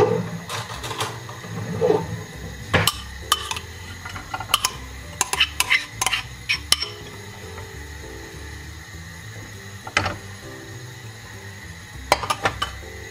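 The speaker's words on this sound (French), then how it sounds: "on va faire revenir nos lardons" Lardons frying in a skillet, a low steady background sizzle broken by sharp clinks and scrapes of a utensil against the pan, close up with no talking.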